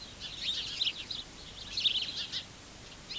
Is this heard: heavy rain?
no